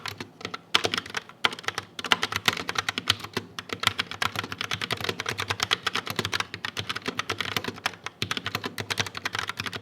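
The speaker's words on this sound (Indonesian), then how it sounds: "berikut ini merupakan contoh suara feedback dari Logitech Pop Keys" Rapid, continuous typing on a Logitech Pop Keys mechanical keyboard with brown switches, crisp, close clacks in an uneven rhythm, no voices.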